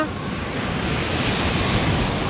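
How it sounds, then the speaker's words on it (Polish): Rough stormy ocean surf roars steadily, a dense loud wash of breaking waves with wind and no voices. "Właściwie to ocean był istnym piekłem, kiedy Reksio postanowił popływać na desce"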